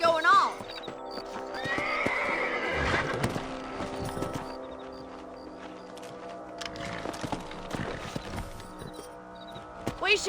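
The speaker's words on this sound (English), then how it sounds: "Let's get back on the horses and see what else is going on." Horses in the Red Dead Redemption video game clip-clop steadily at a walk, with a loud neigh near the start and another mid-clip, heard alongside speech.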